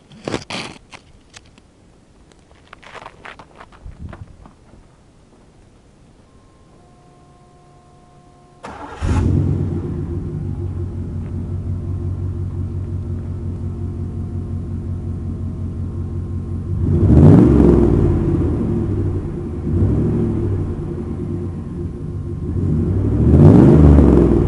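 A Chevy truck fitted with Exhalator side exhaust: a few clicks and handling noises, then the engine cranks and fires into a deep steady rumbling idle, with two loud revs swelling up near the end.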